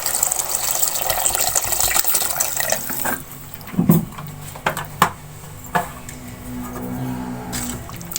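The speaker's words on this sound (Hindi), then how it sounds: "अब इसमें 1 गिलास पानी का शामिल कर लेंगे।" A glass of water is poured into a pan of aloo matar curry, a loud splashing gush for about three seconds, followed by a few soft clinks and knocks over a low bubbling hiss.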